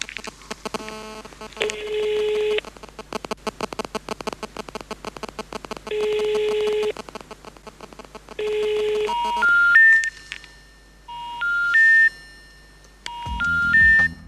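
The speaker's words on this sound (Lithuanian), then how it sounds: "Bandom prisiskambinti toliau" A series of telephone dialing tones and beeps, some rapid clicks and short tone bursts, followed by rising electronic tones, with no talking.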